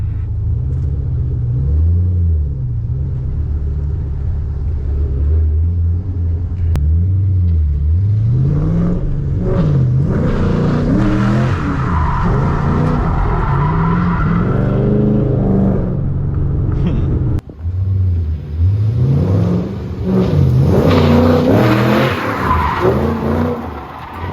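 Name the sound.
car revving while doing a donut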